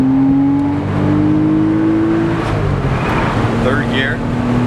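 A 2000 Porsche Boxster S accelerates hard in second gear, its engine revving up in a rising drone with road and wind roar, and a voice talking briefly over it.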